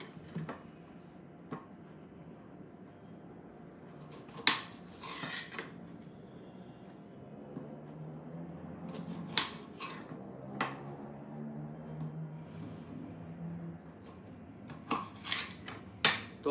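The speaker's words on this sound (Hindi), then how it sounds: "तो हम फिर काटते हैं अपना मौसमी और मौसमी का जूस बनाते हैं" A knife cuts through sweet limes (mosambi) on a board for juice, with scattered sharp taps and soft rasping slices at irregular intervals, quiet and close, and no talking.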